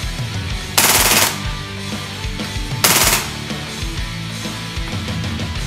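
A KWA KRISS Vector airsoft gun firing full auto in two short, loud, rapid bursts, the first near the one-second mark and the second near three seconds, with outdoor background noise between them.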